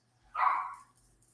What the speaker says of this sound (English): my dogs are going a little crazy